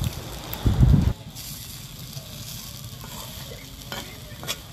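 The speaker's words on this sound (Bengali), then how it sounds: "এখন আমি উল্টে পাল্টে আস্তে আস্তে ভালো করে ভেজে নেব।" Moringa leaves dry-fry in a pan with no water while being turned over. A loud scraping stir comes early, then a soft, steady crackle with occasional light taps.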